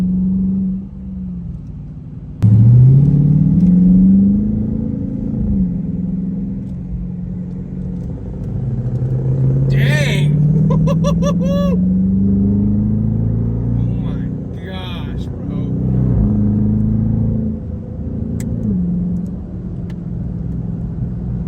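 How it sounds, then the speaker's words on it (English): A Scania truck's European diesel engine, loud and close, droning and rising through gear changes with heavy low rumble and shifting pitch, while a person talks over it. "That's that European diesel."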